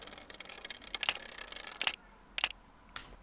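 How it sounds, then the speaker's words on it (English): Dry, clicky camera shutter sound effects snap out several times in a loose sequence, crisp and close, with fainter ticking between the louder clicks and no voices. "there's a camera shutter sound."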